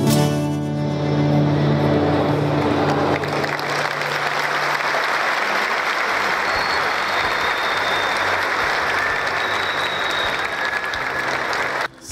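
An audience at a CTG Planalto Serrano gaúcho performance breaks into sustained applause that follows the fading end of the music and carries on as a loud, steady clapping wash, cutting off abruptly at the end.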